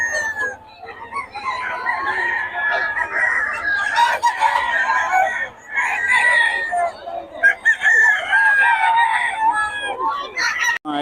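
Chickens and roosters at a market crow repeatedly and overlap, loud and close, with clucking underneath and near-continuous calls across the whole stretch.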